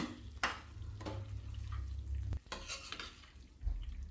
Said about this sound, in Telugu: ఇప్పుడు వేసాక మొత్తం అంతా ఒకసారి కలపండి మొత్తం అది ఉప్పు కారం అంతా ముక్కకు పట్టే విధంగా కలపాలి